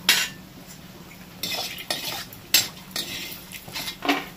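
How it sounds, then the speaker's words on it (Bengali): Bori lentil dumplings frying in hot oil, a soft sizzle under repeated scraping and clinking as a utensil stirs them around the pan in short irregular bursts. "পুরো একদম ভালো করে কড়া করেই ভাজতে হবে।"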